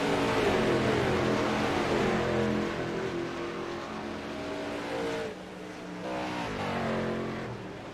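Trans Am race cars thunder down Conrod Straight at Mount Panorama, engines roaring loud and continuous at full throttle, one car's note briefly dipping before another surges past.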